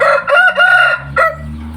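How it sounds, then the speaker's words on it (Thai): A rooster crows loudly and close by, one long cock-a-doodle-doo ending in a short final note, with no other sounds around it. "ไก่ผมก็ตอนนี้ พ่อไก่ก็มีเจ้ายอดเพชรกับเจ้า เกียร์ขาวเลยนะครับ"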